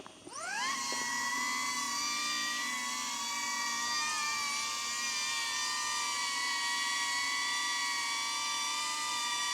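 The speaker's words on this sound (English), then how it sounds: "Let's just go make sure the drone goes up." A DJI Avata drone spins up its motors for takeoff, rising quickly into a loud, steady high-pitched whine with layered tonal hums that holds close by throughout.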